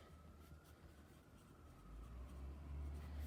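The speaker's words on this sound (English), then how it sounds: "I'm going to write my name at the top." A pencil writes on paper, a faint, steady scratching close by, with a low background rumble that swells toward the end.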